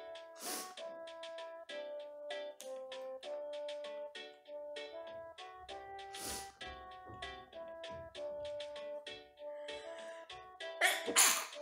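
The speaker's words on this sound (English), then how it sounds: "We walk and we sneeze." Sneezing sound effects in the SNES game EarthBound, short bursts popping up several times over busy chiptune background music.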